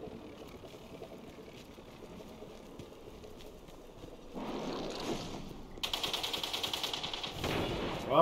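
Rapid gunfire in a Destiny 2 firefight starts faint and distant, then grows into louder bursts of quick repeated shots near the end, without speech.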